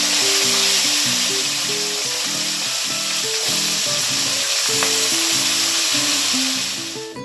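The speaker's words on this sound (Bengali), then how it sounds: "শিমগুলোকে ভালো করে ভাজা করে নেব এপিট ওপিট দিয়ে, তাহলে একটু নরম যাতে হয়ে যায়।" Flat beans frying in a pan make a loud, continuous hiss and sizzle close by, and a muffled background melody plays under it before the sound fades at the end.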